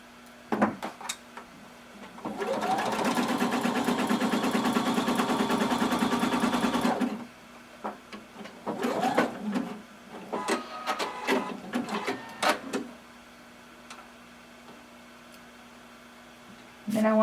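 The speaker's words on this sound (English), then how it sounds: "you're going to sew until you get to that notch or dot" A sewing machine stitching a swimsuit seam runs in one steady, loud whir for about five seconds, followed by scattered handling clatter and fabric shuffling.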